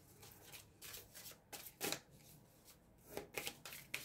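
Tarot cards shuffled by hand, close and fairly soft, in several bursts of riffling with short gaps between them and no talk over it.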